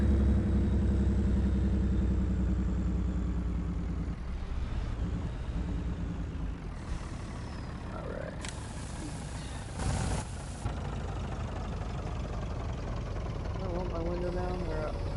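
A truck engine in Farming Simulator 19 rumbles steadily at a low pitch while someone talks over it, with a few brief clicks and shifts partway through.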